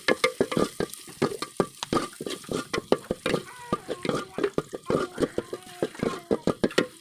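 Panch phoron spices fry in hot oil under a constant hiss, punctuated by quick, rhythmic scraping strokes of a spoon stirring the pan.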